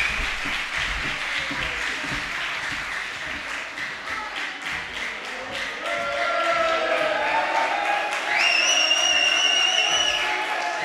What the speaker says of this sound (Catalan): Un fort aplaudiment per a tots ells i elles.